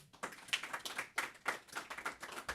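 A few people clap for a musician at a Friday night concert series. Distinct, uneven claps sound quiet and somewhat distant, with no voices over them.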